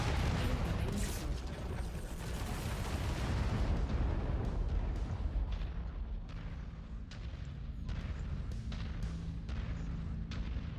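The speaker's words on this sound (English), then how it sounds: "Incoming missile." Incoming missiles strike in a military video game, setting off a dense burst of heavy booming explosions. A string of sharper, scattered blasts follows, with a brief voice heard faintly.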